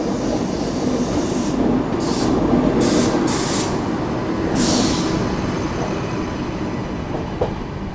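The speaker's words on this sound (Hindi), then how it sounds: "ये है new Delhi Agra intercity express और इसका शेड्यूल्ड ओवरटेक है" The New Delhi–Agra Intercity Express is passed on an adjacent track, heard from a moving train as a loud, continuous rolling rumble with brief whooshing gusts as carriages go by and a faint click near the end.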